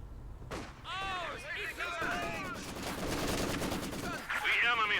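Dense gunfire, machine-gun bursts and mortar blasts from a Company of Heroes 2 battle keep up continuously, with whistling incoming shells, under a commentator's voice talking throughout.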